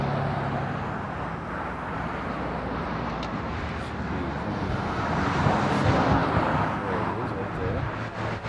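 A DHL triple-seven airliner arriving on a runway, heard as a continuous broad roar that swells in the middle, with a person talking over it.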